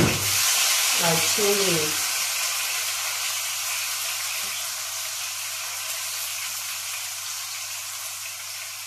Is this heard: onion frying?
yes